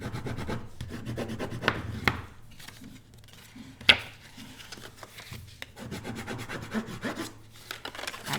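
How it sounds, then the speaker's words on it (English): Paper score lines being burnished during a crafting project, heard as soft, continuous rubbing and rasping strokes close by, with a few sharper taps and clicks mixed in. "Now we're going to burnish our score lines."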